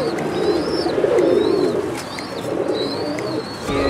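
Rooftop pigeons from Sialkot, including black-faced birds, coo in a steady low murmur throughout, with faint chirps from other birds over the top; no voices.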